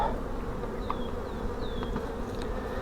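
Dense, steady buzzing of many honey bees at an open hive frame fills the air continuously, close and even, with a few higher whining passes over it.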